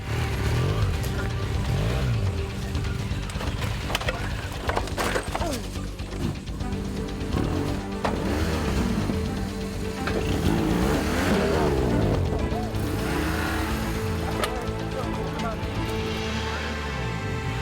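Off-road motorcycle engine revving hard and surging while climbing over boulders at a GS Trophy qualifier, loud and continuous with rising and falling pitch, scraping and thumping impacts, and voices talking over it.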